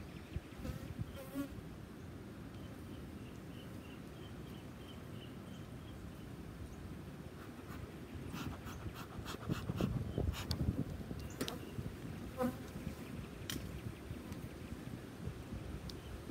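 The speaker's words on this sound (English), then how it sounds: "These bees may get a little cantankerous because I'm already down in the brood." Honeybees buzz in a steady, dense hum around an open hive during a brood inspection. Scattered louder individual bees zip close by over the constant swarm drone.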